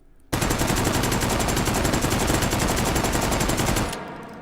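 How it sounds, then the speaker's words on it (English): Continuous full-auto burst from a C96 pistol fitted with a magazine in the H3VR virtual reality game, a loud, rapid, unbroken stream of shots lasting about four seconds before stopping abruptly. "gave it a magazine and gave it the ability for the weapon to fire like an actual submachine gun"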